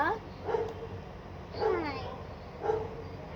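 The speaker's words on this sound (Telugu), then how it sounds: "అక్కడ కుక్క వాయిస్ వినిపిస్తుందా మీకు?" A police dog barks three times at roughly one-second intervals, moderately loud against a steady low background hum.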